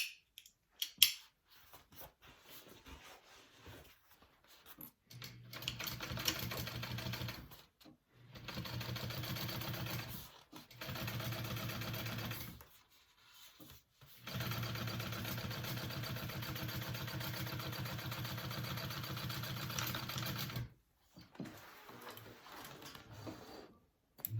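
A sewing machine top stitches the exterior of a crossbody bag in several running bursts, a steady whirring hum separated by short pauses with quiet handling between them.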